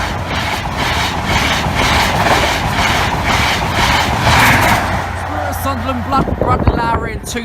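An East Midlands passenger train passes Norwell Lane level crossing, its loud, steady rumble and rail noise continuing throughout with a brief squeal near the end, heard close by.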